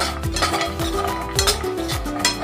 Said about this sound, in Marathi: बदाम सुद्धा आपण हलकेसे भाजून घेऊया